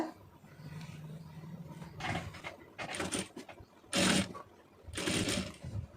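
A sewing machine stitches an Aari blouse in short bursts of whirring, several loud runs of a second or less separated by pauses and handling noise.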